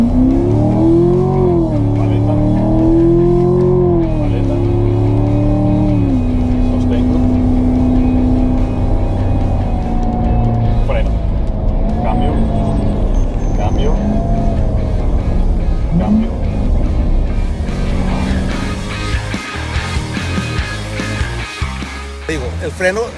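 A Chevrolet Corvette on a driving-school track revs and accelerates through manual gear shifts, then slows under braking, its engine note rising and dropping repeatedly. Speech carries on over the engine throughout.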